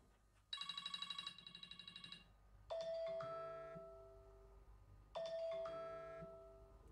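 An iPhone ringtone plays alone: a quick bright chiming trill, then two resonant bell-like tones that ring out and decay, fairly quiet and clean.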